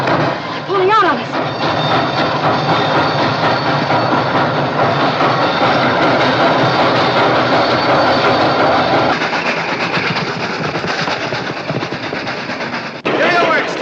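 Steam locomotive pulling a train out, a loud steady rumble with rail clatter running throughout, voices briefly heard over it near the end.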